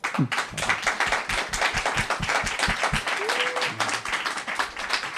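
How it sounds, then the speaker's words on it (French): An audience at a talk and Q&A on French science fiction breaks into warm applause, a steady patter of many hands clapping close by, with a brief voice near the end. "On peut l'applaudir."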